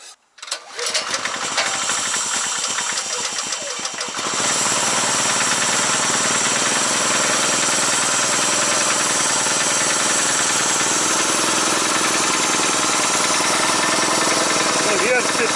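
A VOIN inverter petrol generator under repair for not starting cranks briefly, then catches and runs with a loud, steady close-up engine drone that continues to the end.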